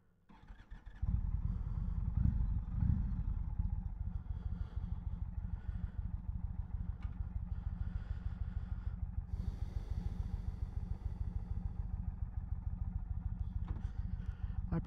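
A 2019 Indian Chieftain Dark Horse motorcycle rumbles to life and holds a low, evenly pulsing engine note at walking speed through a slow U-turn, sounding steady and close.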